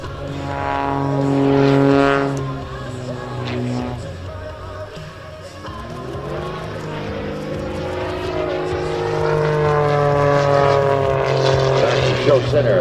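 An Edge 540 aerobatic propeller airplane flying at the 2017 New York Airshow, its engine drone rising and falling in pitch as it rolls and maneuvers, steady and fairly loud, with an announcer talking over it throughout.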